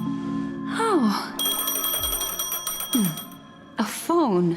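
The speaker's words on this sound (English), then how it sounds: "A phone." A phone rings inside the video game Honkai: Star Rail, a bright electronic tone sustained for a few seconds and then cut off, with a voiced character speaking over it before and after.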